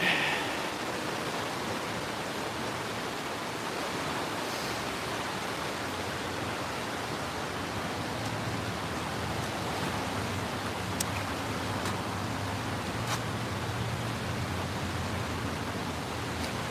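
Continuous rushing river water flows under a road bridge in Idaho Springs, Colorado, a broad steady wash of current close by with a few faint clicks over it.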